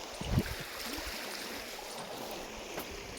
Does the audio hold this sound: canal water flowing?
yes